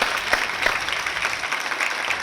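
A poetry gathering's audience claps to welcome a poet to the stage, a dense burst of hand claps with a few sharper strikes standing out, held steady across the short moment.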